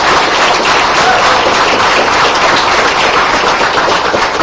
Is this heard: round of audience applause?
yes